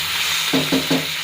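Bottle gourd halwa being stirred in a pan over the heat: three quick scraping strokes, close and distinct, over a soft, steady sizzle.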